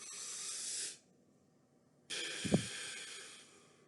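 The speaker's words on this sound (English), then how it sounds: "Big balloon breath." Deep breath drawn through flat, nearly closed lips as a flute breathing exercise, heard as a loud airy hiss, a pause, then a second hissing breath with a brief low puff midway, close and alone.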